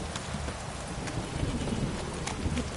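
Steady rain in the video game The Witcher 3, a dense continuous patter with scattered sharper drops and a faint rhythmic clopping like a horse's hooves, heard alone.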